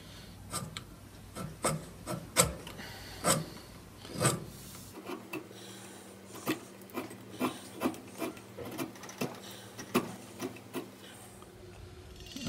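Sharp chisel paring wood on a small model ship part, a series of short, crisp scraping strokes at an uneven rhythm, close and fairly quiet in a still room.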